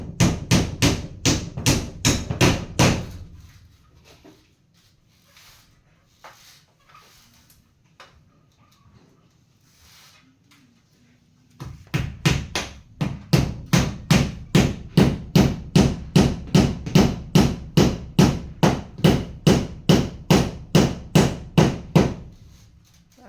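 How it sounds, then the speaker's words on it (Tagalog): Rapid, steady hammer blows during ceiling repair come in two dense runs, separated by a quiet pause with faint background noise. The strikes are close and loud. "Parang hindi umaakma yung pukpok mo ah."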